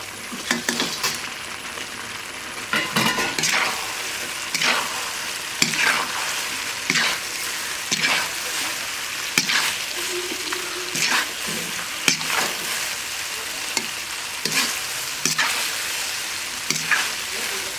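Schezwan cauliflower frying in a pan while being stirred, with a steady sizzle broken by repeated scraping strokes of a spoon at a fairly regular rhythm, close and clear.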